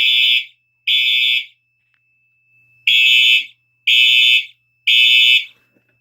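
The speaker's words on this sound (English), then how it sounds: "the tone that sounds similar to the Wheelock EHS DL1" A fire alarm horn, similar in tone to a Wheelock unit, blares in the code 3 temporal pattern after a pull station is activated: two loud bursts, a pause, then three more, with a faint steady tone running beneath.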